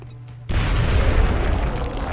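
A grenade explodes in the XCOM tactical game: after a quiet moment, a sudden loud boom erupts and decays into a rolling, rumbling blast that lingers to the end.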